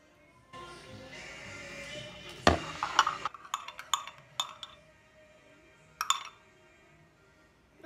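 A spoon stirs a hand soap slime mixture in a bowl, making a quick run of light clinks and taps against the bowl, followed by one more clink after a pause.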